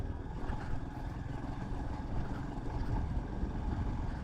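A Royal Enfield Scram 440 motorcycle ridden at about thirty over a rough, broken road, giving a continuous close engine thrum mixed with wind and road rumble, with no talk.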